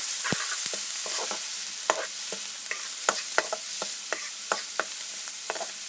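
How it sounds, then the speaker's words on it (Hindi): Egg curry masala is stirred and fried in a pan, Pakistani dhaba style, with a constant close sizzle and frequent scraping, clacking spoon strokes at an uneven rhythm and no talking. "इसको मिक्स करके इसकी बुनाई करनी है।"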